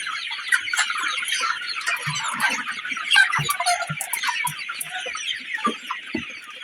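A flock of 48-day-old Sonali chickens on a poultry farm clucks and cackles continuously nearby, many birds calling over one another at a busy, uneven pace.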